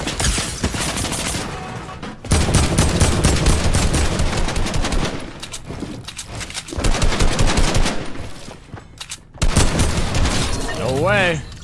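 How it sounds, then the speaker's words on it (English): Rapid automatic hip-fire bursts from an exotic weapon in a shooter video game, loud and close, several long volleys separated by short pauses, with voices in between. "That hip fire, to see how quick it kills him."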